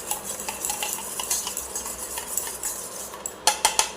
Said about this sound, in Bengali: কিছুটা দই আমি এটার মধ্যে মাখিয়ে নিয়েছি জামটার মধ্যে।